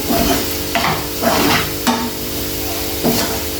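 Eggs frying in a pan for an onion egg curry, a steady close sizzle broken by several short scraping stirs of a spatula.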